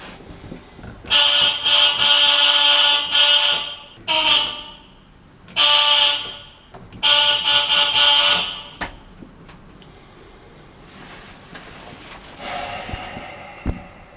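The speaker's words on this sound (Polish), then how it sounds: "należy użyć przycisku alarm" The alarm button buzzer in an elevator car stuck between floors sounds in four loud, harsh electronic bursts of uneven length with short gaps, then a fainter buzz near the end of a quiet stretch.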